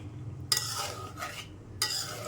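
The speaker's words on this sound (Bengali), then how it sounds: "এরকম করে নাড়তে নাড়তে যখন গুড়ের পাকটা হয়ে যাবে" Jaggery syrup for amra morabba being stirred in a pot: two or three short scraping strokes of a spoon with a brief clink, separated by quieter bubbling pauses.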